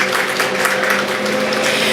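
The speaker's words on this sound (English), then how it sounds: "we can applaud" An audience at a highway recommissioning ceremony applauds in a steady, dense wash of clapping that continues evenly throughout, with no voices over it.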